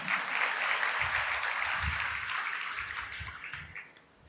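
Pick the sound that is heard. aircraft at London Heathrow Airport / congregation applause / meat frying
congregation applause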